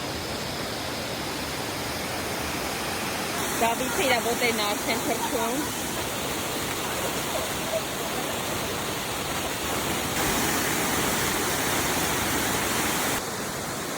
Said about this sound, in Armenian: Մենք արդեն հասանք ջրվեժ։